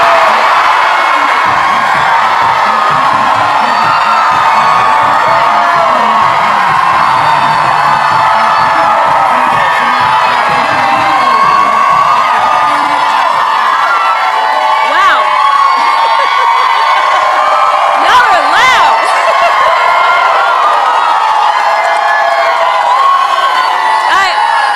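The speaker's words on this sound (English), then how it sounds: "The crowd erupted" A large political rally crowd cheers and whoops loudly and continuously, with shouts and scattered applause forming a dense roar, and a few sharp peaks near the end.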